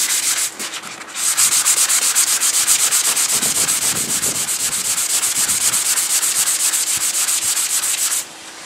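A sanding sponge wet-sands a brazed seam crack on a metal tank, making a steady, close, raspy rubbing with rapid back-and-forth strokes that runs almost continuously before stopping near the end.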